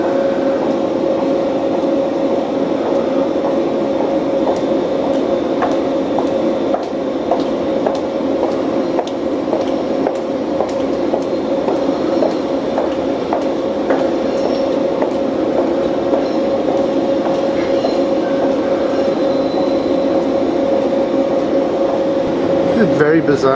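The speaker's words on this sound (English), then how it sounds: "here comes one of our new subway trains." A new Toronto subway train pulls into a station, a loud, steady droning hum with scattered rattling clicks throughout.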